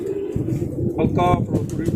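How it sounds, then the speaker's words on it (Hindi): An old rooftop pigeon of mixed Ferozpuri strain gives a short throaty coo under someone speaking close by. "ये उनका कबूतर है जी पुराना"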